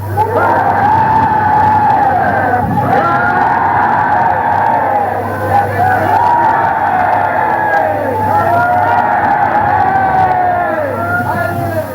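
Archival newsreel crowd roaring and jostling around British Prime Minister Neville Chamberlain's car, a dense continuous hubbub of cheering voices with steady engine rumble beneath, loud throughout the whole stretch.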